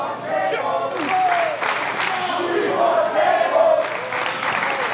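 A crowd at a New Texas Pro Wrestling event roars and cheers continuously around the ring, with shouts and yells rising above the steady noise.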